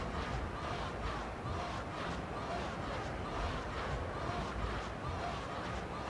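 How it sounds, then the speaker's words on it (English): A blitzball stadium crowd in Final Fantasy X roars and cheers in a steady, dense wash of noise from start to finish, with no break or swell. "The crowd is going wild."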